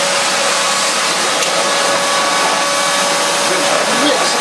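A refurbished Miele S2111 vacuum cleaner runs with its floor tool fitted, giving a loud, steady, close-up whooshing roar that holds unchanged throughout.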